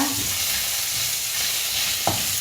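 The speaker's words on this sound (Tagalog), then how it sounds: "So unahin natin ang luya. Dito ko rin po siya gigisahin." Chopped ginger sautéing in a pan as the base for chicken stewed with tomatoes, giving a steady close hiss of frying with a sharp spatula scrape and clink near the end, no voices.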